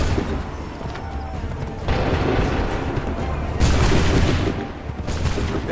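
Cannon volley in Assassin's Creed III, a sustained barrage of booming shots and crashes layered over one another, loud and continuous with periodic heavier bursts.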